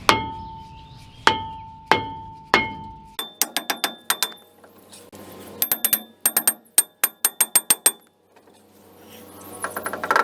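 Metallic ringing taps strike repeatedly, first a few spaced hits, then rapid clusters of lighter clinks, close by.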